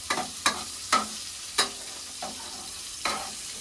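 Onions frying in a pan for biryani under a faint hiss, with about six separate clanking stirs of a spatula spread evenly over the stretch, and no voices.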